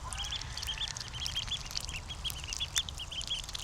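Ducks at a backyard pond, a steady chorus of faint quacking and chattering calls against outdoor background noise.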